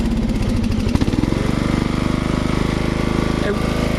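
A riding mower engine sputters to life and settles into a loud, rapid, rhythmic chugging idle close by, with a brief knock near the start.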